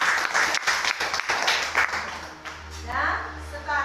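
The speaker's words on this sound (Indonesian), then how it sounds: "Tepuk tangan dulu si Davin." A small group of students in a classroom claps, scattered and uneven, with voices chattering over the applause as it fades out.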